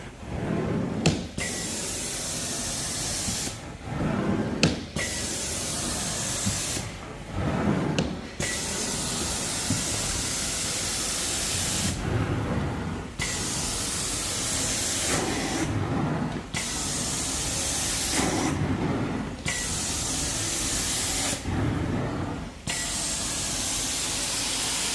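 A carpet cleaning machine sprays hot water and steam in repeated loud hissing bursts, each a few seconds long with short quiet gaps between them, steady and close throughout.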